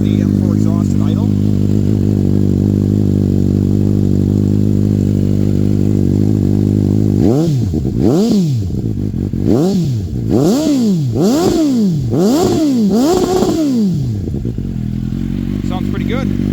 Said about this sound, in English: here is the M4 exhaust at idle